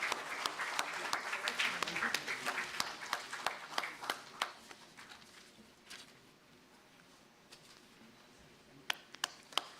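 Audience applause at an intellectual property conference during a souvenir presentation, a moderate crowd clapping steadily for several seconds, tapering off to quiet, then a few sharp isolated claps near the end.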